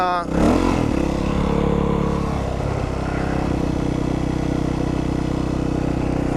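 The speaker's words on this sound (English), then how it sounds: "That was a first gear wheelie." A motorcycle pulls a slow, wobbly first-gear wheelie, its engine revving up sharply and then holding a loud, steady drone close by, with a voice partly heard under it.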